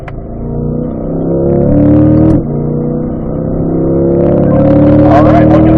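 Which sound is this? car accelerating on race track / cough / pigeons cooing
car accelerating on race track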